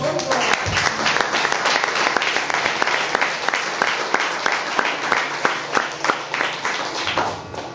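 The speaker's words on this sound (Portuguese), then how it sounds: "Podia aplaudir Jesus por isso?" A church congregation applauds for Jesus: dense, sustained clapping with sharp individual claps standing out in a fairly regular rhythm, loud and close. It tapers slightly near the end.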